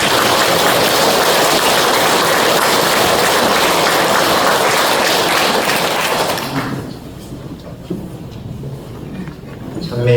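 Loud, sustained applause from a church congregation at a parish 25th-anniversary gathering, a dense even wash of clapping that fills the room for about six seconds before dropping away to quiet.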